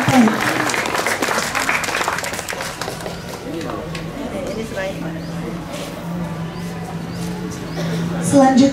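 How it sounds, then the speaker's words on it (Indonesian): An audience claps at a school handover ceremony with the provincial agriculture office, continuous moderate applause filling the room for several seconds while voices murmur beneath it. "Beri tepuk tangan dulu."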